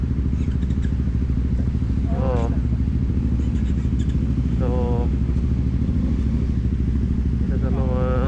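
A Honda Transalp 750 motorcycle engine runs steadily on a mountain trail, a constant loud drone throughout with people talking over it.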